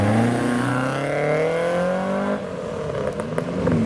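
A Mark 1 Ford Escort Mexico pulls away from a car show, its engine revving up through rising gears loud and close, then dropping off as it moves away.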